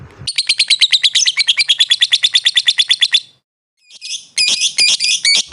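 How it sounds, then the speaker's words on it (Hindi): Rapid, shrill lovebird chirps repeat in a fast run for about three seconds, pause briefly, then resume in loud, scratchy bursts close by. "कुछ 4-5 सेकेंड आप सुने लव बर्ड की आवाज़ होती"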